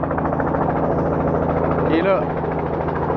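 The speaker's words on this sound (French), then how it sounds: "pour les sécher, il y a un hélicoptère qui passe au-dessus, tout près" A helicopter passes low over wet cherry trees to dry them, with a steady, loud, droning rotor and engine roar filling the scene while a person speaks briefly over it.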